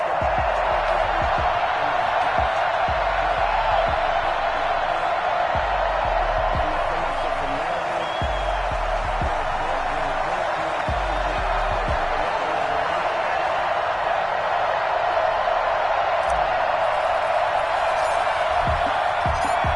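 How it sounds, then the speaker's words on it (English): Stadium crowd noise in an EA Sports football video game, a Bills versus Los Angeles Rams game, a loud steady roar of a sold-out crowd with faint cheers and thuds throughout. "they entered to the delight of this sold-out crowd"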